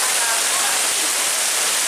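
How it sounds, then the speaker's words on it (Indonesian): A hailstorm in Yogyakarta, Indonesia pours down as a loud, dense, continuous roar of falling ice and water that fills the whole stretch without a break. "Hujan es."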